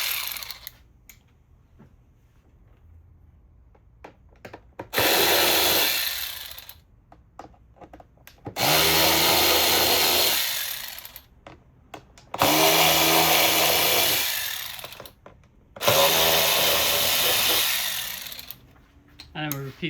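A power tool whirs in four loud, sustained bursts as it backs out screws on the engine air filter cover of a 2020-2022 Mercedes AMG GLC 43. Quieter handling noises fill the pauses between bursts.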